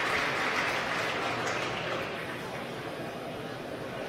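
A crowd watching a SpaceX Falcon 9 launch cheers as the Dragon CRS-12 cargo ship deploys, a dense, steady wash of applause that fades slightly toward the end.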